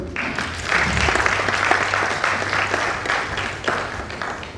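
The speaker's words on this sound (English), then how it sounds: "A round of applause for him again for accepting to chair this event." An audience at a school contest grand finale breaks into a round of applause for the event chair, with loud, dense clapping that swells after a brief quiet start and continues steadily, without talk.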